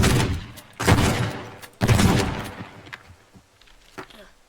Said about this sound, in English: Use a shotgun.